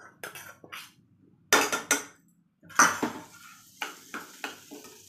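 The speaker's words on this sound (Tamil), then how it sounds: "இப்போ இந்த தாளிச்சதை இதில் கொட்டிக்கலாம்." Tempering of small onions poured into a pot of horse gram porridge: a series of sharp metallic clanks and scraping knocks of a vessel against a pot, in several close bursts with pauses between.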